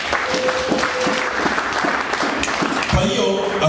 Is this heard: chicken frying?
no